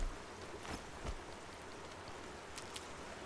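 Rain in Horizon Zero Dawn patters steadily as a soft, even hiss with scattered droplet ticks and a few brief rustles, faint and continuous with no voices.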